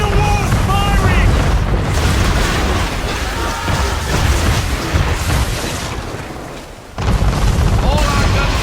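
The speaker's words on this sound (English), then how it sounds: "Man of war's firing!" Heavy cannon fire from a man-of-war warship in the naval game Assassin's Creed 3, with deep booming blasts rolling almost continuously and a brief lull near the end before the barrage resumes, loud and close, with voices shouting over it.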